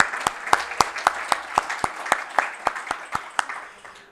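Audience applause at an annual general meeting of a chamber of commerce: a steady burst of many hands clapping in a hall, with sharp individual claps standing out above the crowd sound throughout.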